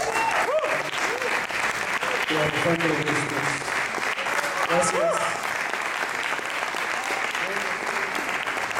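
A concert audience applauds the musicians with steady, sustained clapping while someone speaks over it into a microphone.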